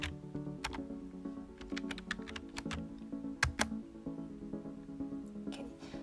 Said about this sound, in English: Let me type in command sudo jtop.